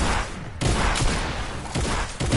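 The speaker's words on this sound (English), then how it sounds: "Oh, the mini gun." Minigun fire in the video game Arena, heard as a loud, dense rattling volley with short bursts and a break partway through.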